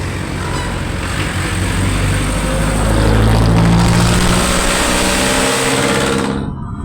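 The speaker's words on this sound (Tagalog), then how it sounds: "Kung naririnig niyo yung mga jeep niyan," Jeepney engines revving on a busy street near a mall in Dasmariñas, Cavite, a steady loud engine drone with some rising revs, continuous throughout before fading abruptly at the end.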